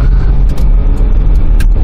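A 2005 Kia Sorento engine accelerating on the road, a loud continuous low rumble heard from inside with a few faint clicks and rattles over it, no talking.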